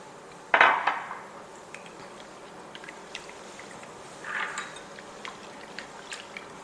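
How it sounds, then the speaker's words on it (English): Eggs whisked in a bowl for French toast: a sharp clinking burst of utensil against the bowl near the start and a second brief flurry later, with quiet gaps between and no talking. "go ahead and whisk those eggs, break up those yolks, get those eggs combined a little bit"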